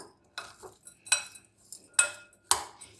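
A spoon clinks against a bowl in a few sharp, separate taps and scrapes while mustard seeds, cumin and turmeric are mixed for microwave poha upma, close and clear with no talk.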